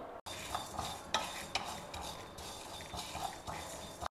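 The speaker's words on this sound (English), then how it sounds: "We will dry roast all these together." Coriander seeds, tur dal, black pepper, cumin and a dry red chilli being dry roasted in a pan, with steady close scraping and stirring and repeated light rattles of the seeds and lentils, no talk.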